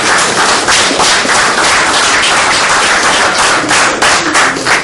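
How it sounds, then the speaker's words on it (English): A hip-hop event audience claps loudly for a speaker's 12-year-old son, a dense, continuous round of applause filling the room with no speech over it. "Give him a round of applause."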